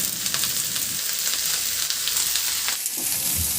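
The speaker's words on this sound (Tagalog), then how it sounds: "Ihalo lang hanggang sa maluto yung repolyo" Shredded cabbage frying and being stirred in a pan, with a constant close sizzle and occasional scraping stir sounds, no talking.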